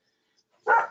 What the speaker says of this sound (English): I've got a couple dogs outside that any sign of a chipmunk, we're making noise. So if you hear dogs barking